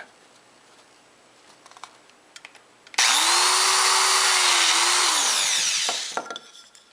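A biscuit joiner spins up and cuts a slot in pine with a loud steady whine and rough wooden rasp for about three seconds, then winds down, preceded and followed by faint handling clicks.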